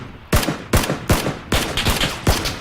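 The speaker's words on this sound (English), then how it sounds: "as I'm shooting at him, this guy starts shooting at me, and then the other guy takes him out" Gunfire in the PlayerUnknown's Battlegrounds video game: six sharp, loud shots spaced roughly half a second apart, each a crisp crack with a short echoing tail, with no talking.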